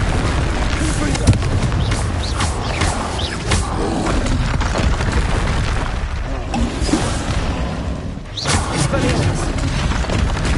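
A Confringo fire-blast spell in Hogwarts Legacy, heavy booming explosions bursting repeatedly over a loud, dense rumble of game sound effects, with a sharp blast near the end.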